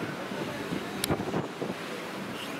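Steady wind gusts against the microphone at the western portal of a church on Mallorca, a soft continuous rush with a couple of brief knocks.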